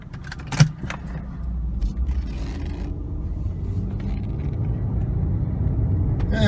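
A 2004 BMW 325ci convertible with 77K miles starting to drive off, a sharp key or door clatter up front, then a low engine rumble that builds steadily and grows louder toward the end.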